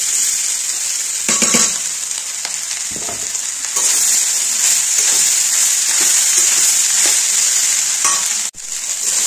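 Leftover cooked rice with boiled potatoes fries loudly in a pan, a dense continuous sizzle broken by scraping stirs and occasional utensil knocks.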